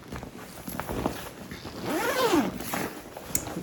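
A zipper on a hospital bag is drawn open in a few quick rasping pulls, close and clear, with light handling rustle around it.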